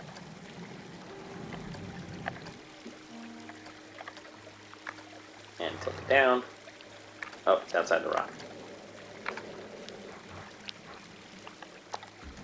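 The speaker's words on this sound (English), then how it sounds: "So now we just have this like little, tiny waterfall here." A small, tiny waterfall in the Planet Coaster building game pours as a soft continuous trickle beneath someone talking, with a few louder sound-effect bursts cutting in midway.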